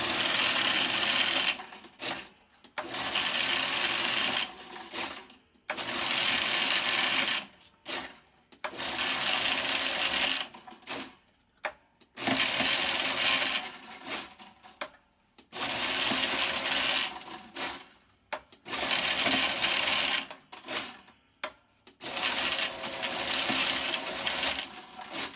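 A Semacon S140 coin counting machine rolls coins in a continuous mechanical whir of clinking, rattling coins, running in long bursts separated by short pauses as each roll finishes, with no talk.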